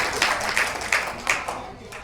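An audience at a Congress party block workers' meeting in Rewari district gives a scattered round of hand claps, the individual claps landing irregularly over a murmuring room at moderate volume.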